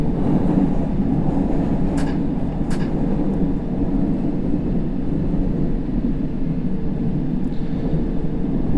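A London Underground Circle line train in a subway simulator game rumbles steadily through a tunnel toward Barbican, with a constant deep roar and a couple of faint metallic clicks and no voice.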